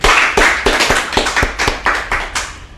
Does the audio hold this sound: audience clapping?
yes